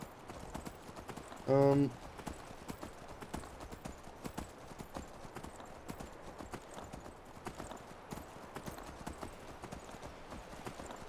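Horse hooves clip-clop in a steady, even rhythm while riding in the Skyrim video game, with a short exclaimed voice near the start.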